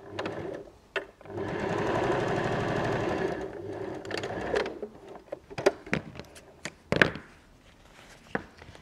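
A sewing machine runs a steady top stitch along a fabric strap for a bag, a sustained mechanical whir for a few seconds, then stops and gives way to scattered clicks and handling taps.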